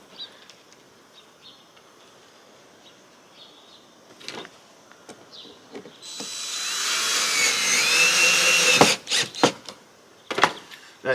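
A power drill whirs for a few seconds, fairly close and steady, while drilling on a homemade fruit dehydrator on a farm in the Algarve. Faint birdsong comes before it, and sharp clicks and knocks follow.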